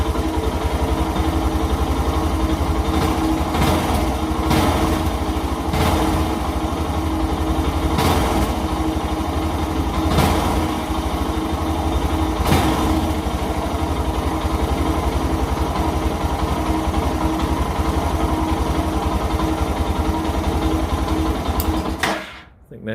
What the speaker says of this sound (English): let's start up the bike